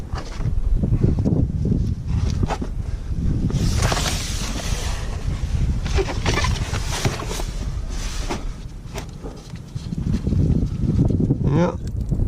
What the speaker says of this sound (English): Oh, it's getting windy again.